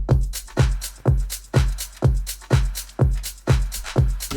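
Drum groove in the second part of an electronic track's drop: a heavy kick hits roughly every half second with bright percussion layered between, a steady, driving four-on-the-floor pattern with nothing else over it.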